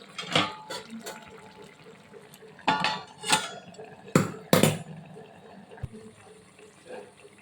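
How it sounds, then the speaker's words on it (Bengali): A metal lid clatters onto a cooking pan of ridge gourd with poppy seed paste on a gas stove, giving a couple of close, sharp clanks among softer kitchen rattles and scrapes. "আবার আমি ঢাকনা দিয়ে দিচ্ছি"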